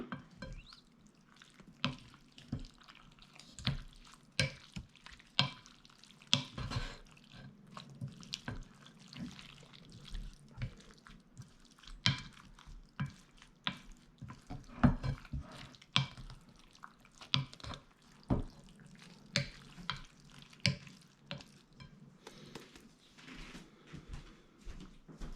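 Four beaten eggs being stirred with ground pork in a bowl for tortang giniling, soft wet sloshing and repeated light utensil taps against the bowl in an uneven rhythm, close but quiet, no talk.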